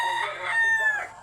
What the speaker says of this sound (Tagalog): sarap pakinggan ng kokkoraok